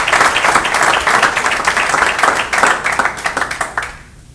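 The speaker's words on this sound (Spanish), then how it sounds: "Denle un aplauso al Rey bendito." Congregation at a Christian church service claps in a loud, dense burst of applause that carries steadily, then tapers off near the end.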